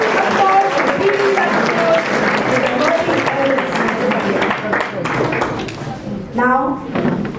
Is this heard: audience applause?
yes